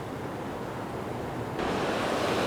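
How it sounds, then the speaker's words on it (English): Gentle ocean waves rush up a sandy beach in a steady, close wash of surf that swells louder partway through, with wind buffeting the microphone and no voices. "Hopefully don't have too much rushing water come up and shake the tripod."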